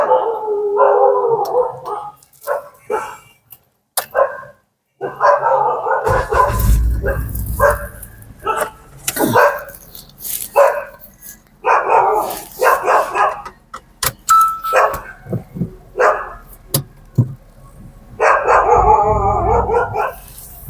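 A pack of dogs chases a moving vehicle on a road between Sultanpur and Lucknow, barking, yipping and howling loudly and repeatedly for a long stretch, with a low engine rumble beneath.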